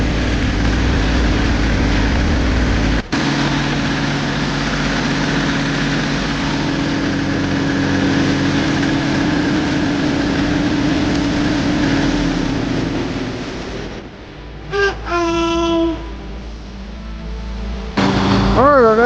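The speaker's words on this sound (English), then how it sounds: "working on this Goblin pump with the Yanmar engine in it, we need to check oil pressure" A Goblin pump driven by a Yanmar engine with an intermittent low oil pressure fault, running at a steady loud idle with a continuous droning hum. Near the end a brief varying whine and clatter break in.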